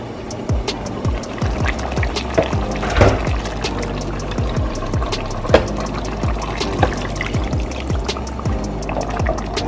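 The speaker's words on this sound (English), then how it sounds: "Now I will add a half cup of hot water." Half a cup of hot water is poured into a pot of coconut curry chicken cooking on high heat, giving a continuous splashing, bubbling wash with sizzling and sputtering throughout.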